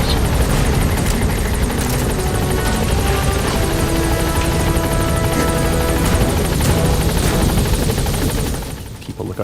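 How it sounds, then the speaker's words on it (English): Support helicopter arriving in Metal Gear Solid V: The Phantom Pain, a loud continuous rotor chop and engine roar that dominates, then drops away near the end. "Support helicopter has arrived."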